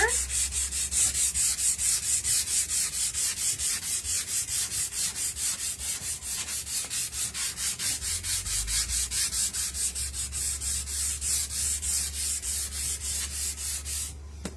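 Sandpaper rubbed back and forth over unfinished wood in quick, regular strokes, each a close scratchy swish, repeating evenly throughout with no voices.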